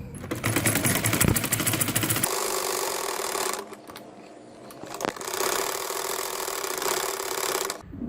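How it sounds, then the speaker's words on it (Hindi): A sewing machine stitches the shoulder seam of a baby boy's shirt in loud, close, rapid mechanical bursts, stopping for a quiet pause mid-way before running steadily again. "अब मैं यहाँ इसकी सिलाई कंधे की बाजू की फिटिंग के लिए"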